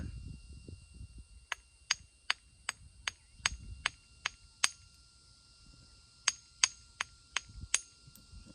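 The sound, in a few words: flint knapping agatized coral spearpoint, beveling the base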